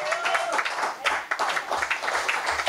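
Congregation clapping during a Sunday church service, a steady broadband wash of applause throughout with faint voices underneath.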